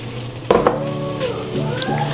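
Water poured into a chicken and vegetable stir fry in a carbon steel wok, setting off a sudden loud hiss and sizzle that then settles into a steady frying crackle, with a light clink of a utensil against the pan.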